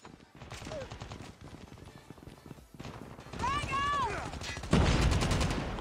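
Gunfire in the mobile shooter Call of Duty Mobile, with several bursts of shots and game effects mixed under constant talk from a player, getting louder toward the end.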